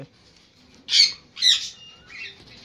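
A caged lovebird gives three sharp, loud squawks at close range, about half a second apart, the last one softer, against a quiet background.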